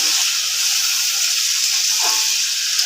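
Chicken sizzling and hissing steadily in a pan after a splash of water is added while being stir-cooked, a continuous close frying hiss with no talk.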